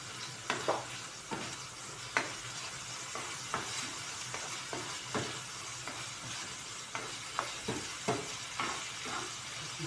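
Food sizzles and fries in a pan with a constant hiss, punctuated by repeated scraping stir strokes every second or so, close and moderately loud, with no speech.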